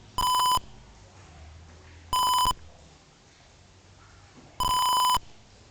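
Three loud electronic beeps from a height-sensor buzzer, each about half a second long, separated by uneven pauses of about one and a half to two seconds over a quiet background hum.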